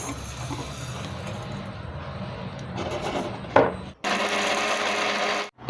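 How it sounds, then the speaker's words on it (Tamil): A kitchen mixer grinder whirs steadily as it grinds wheat rava and rice into a coarse meal, a continuous buzzing hum with short stops and restarts near the end. "இதை இப்போ மிக்சியில் போட்டு அரைக்க போகிறோம்"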